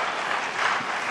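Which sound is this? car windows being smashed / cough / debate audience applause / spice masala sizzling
debate audience applause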